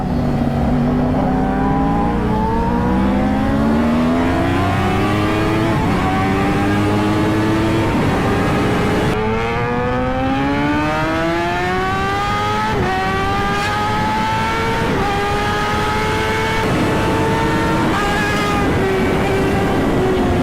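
A Kawasaki ZX-10R superbike accelerates hard through its gears, the engine note climbing in rising sweeps with brief dips at each shift, loud and close over steady wind noise.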